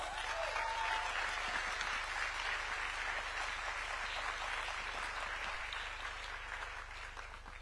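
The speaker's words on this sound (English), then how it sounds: "We can keep clapping for her until she takes a seat" An audience at the Africa Forward Summit youth engagement session applauds for a speaker taking the stage, a sustained, even clapping that fades slightly toward the end.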